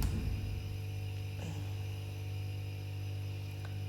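A vacuum frame pump running during a Toyobo solar plate exposure, a steady low electrical hum with a droning motor tone, constant and close with no talk.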